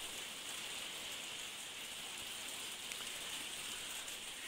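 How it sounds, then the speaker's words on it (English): Steady rain falls in a dense, even hiss that continues without pause, with no talking. "It's the rain."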